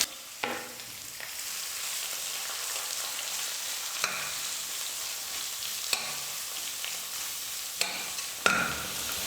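Finely chopped large onions fry with dal in a pan, a bright close sizzle running continuously while a spoon scrapes and stirs in occasional distinct strokes.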